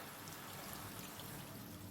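Water poured into a pot of sautéed meat while cooking kebab halla with onions, a steady hissing, splashing pour that runs continuously and fairly loud throughout.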